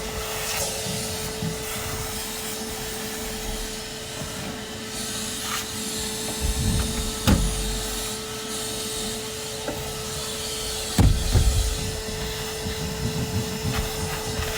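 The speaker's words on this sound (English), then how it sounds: "Is the vacuum real loud?" A vacuum cleaner drones steadily and loudly throughout while cleaning out a small black Nissan car, with occasional bumps and rubbing as the nozzle scrapes the interior, and no talking.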